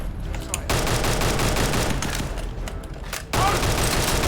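An MG34 machine gun in a World War II video game fires sustained bursts, a loud rapid rattle of shots that pauses briefly and then resumes.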